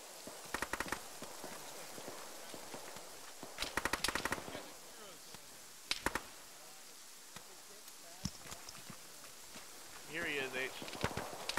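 Machine gun fire in the military game Arma sounds as several short rattling bursts, at times distant and faint, amid outdoor ambience with voices talking.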